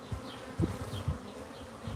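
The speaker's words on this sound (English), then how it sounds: "They're Africanized bees." Africanized bees buzz close by in a steady, faint drone, with individual insects flitting past in short louder swells.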